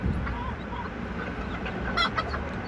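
A bantam hen clucks softly near her newly hatched chicks, with faint high chick peeps and a few louder clucks toward the end over low background noise.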